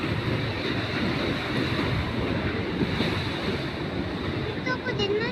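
Ocean waves rolling onto the shore at Aparri, Cagayan, a constant loud wash of surf with heavy wind buffeting the microphone throughout.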